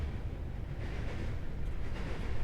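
Train rumbling past in the background: a low, steady rolling drone that builds gradually in loudness, ending in a brief sharp knock.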